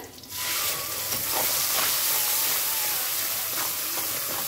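Steady, bright sizzling of cumin seeds frying in hot oil, close and continuous, with a faint crackle and no talking.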